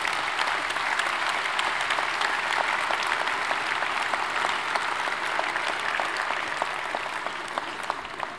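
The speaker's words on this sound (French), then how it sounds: "si vous applaudissez" Sustained, dense applause from the audience at a French mayor's 2013 New Year institutional greetings ceremony, an even wall of many hands clapping at steady loudness throughout.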